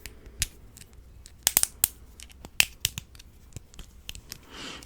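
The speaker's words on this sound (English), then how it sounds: "I don't really know what these are called, but they're like kind of clicky." Clicky plastic fidget toy being snapped and clicked up close, sharp irregular clicks in quick clusters, some sounding as doubled snaps, with quiet gaps between and a faint rustle at the end.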